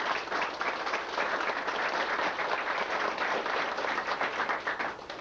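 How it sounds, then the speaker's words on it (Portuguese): A gathering of family descendants at a reunion event breaks into continuous, dense applause, many hands clapping steadily and loudly for the whole stretch without pause. "Uma salva de palmas para o nosso povo lá de..."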